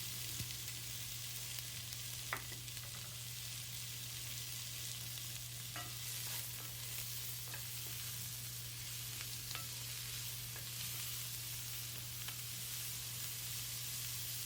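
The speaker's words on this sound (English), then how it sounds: "we're going to add 2 chopped onions. We're just going to cook these till they go translucent." Two chopped onions sizzle steadily in a cast iron pot, a constant, even frying hiss with a low hum beneath and a few faint clicks of stirring, no voices.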